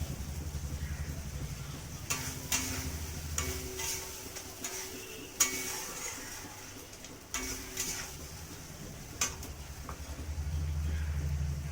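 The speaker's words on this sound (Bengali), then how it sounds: "খুব ভালো করে মশলাটা আমি নেড়ে নেবো" A spoon scrapes and taps against a pan in irregular strokes, stirring chilli and turmeric masala over a soft background sizzle, with occasional sharper clinks.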